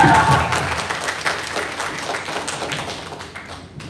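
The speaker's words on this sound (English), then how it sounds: "I see a lot of applause for the question" Audience at a school debate competition clapping after a question, a dense round of applause with scattered individual claps, tapering off over a few seconds; faint voices mixed in.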